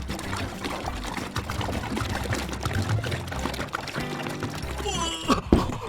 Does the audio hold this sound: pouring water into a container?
yes